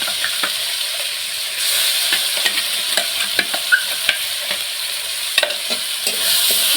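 Masala paste for egg curry frying in a pan while being stirred, a steady close sizzle broken by repeated scraping strokes of a spoon against the metal.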